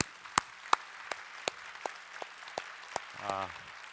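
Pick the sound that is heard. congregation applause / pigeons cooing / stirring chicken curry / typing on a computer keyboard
congregation applause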